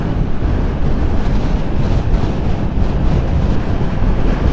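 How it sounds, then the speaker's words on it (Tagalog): Strong wind batters the microphone in a steady, loud rumbling roar that fills the whole stretch, with no voices over it. "Napakalakas ng hangin dito."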